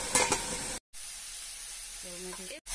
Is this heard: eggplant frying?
yes